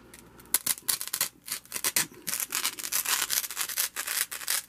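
A knife carving and scraping foam for a burning-city diorama: close, irregular rasping strokes in quick bursts, fairly quiet, with no talking.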